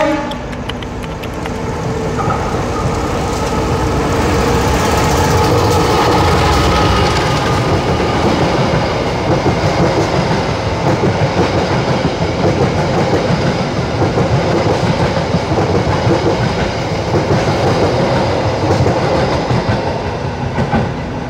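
Jayabaya executive-class train rolling on rails between Malang and Jakarta, heard from inside the carriage as a loud, steady rumble with continuous clickety-clack of wheels over rail joints and a faint wheel squeal.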